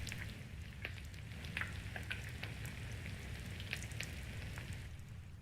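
A campfire in The Forest game cooks food with a constant close frying sizzle, scattered crisp pops and crackles breaking through the hiss for several seconds, no speech.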